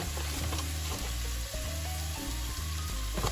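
Chopped onion and two spoonfuls of flour sizzle and fry steadily in a hot pan, a dense continuous crackle with occasional stirring scrapes, close and alone with no talk.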